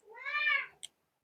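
A cat gives one drawn-out, rising-and-falling meow close by, followed by a brief sharp click, with no talking.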